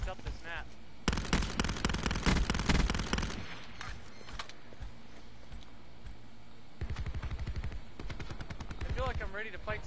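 Repeated gunfire from a semi-automatic weapon in a military shooter game, loud bursts of cracking shots in clusters with pauses between, while players talk over the action.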